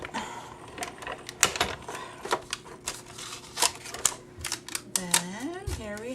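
Hand-cranked die cutting machine pressing paper for a birthday cake cutout, a series of close clicks and ratcheting creaks with squeaky rising tones near the end, with a voice speaking.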